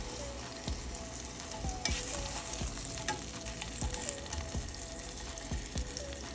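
Food sizzles steadily in a hot pan, with occasional scraping clicks from a utensil stirring or turning it.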